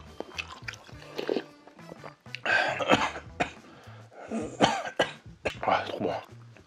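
Someone coughs repeatedly and clears their throat after swallowing food the wrong way while eating Korean street food, with chewing noises and brief bits of voice between the fits.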